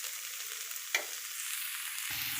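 Onions and chillies fry in a pan with a steady, soft sizzle, broken by a single brief clink of stirring, with no talk.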